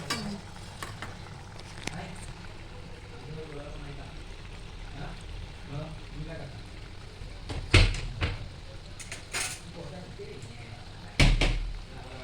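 Chakli, spiral rice-flour snacks, fry in hot oil over a low gas flame, giving a steady close sizzle with a few sharper clatters of utensils near the end and faint voices in the background.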